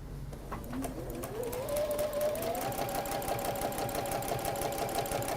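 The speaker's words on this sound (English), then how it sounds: "we're just going to sew on that diagonal line" A sewing machine stitches steadily along a diagonal line, a close, continuous rapid mechanical whir with a rising motor tone that holds for several seconds.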